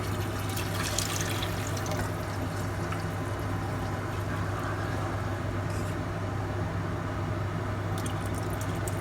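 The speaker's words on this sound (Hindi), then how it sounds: "फिर इसमें 1 कप पानी डाल देंगे हम।" Water, about a cupful, poured into frying rice in a pan while making Hyderabadi bagara chawal. It gives a steady, continuous rushing hiss that holds evenly for the whole stretch, close and without talk.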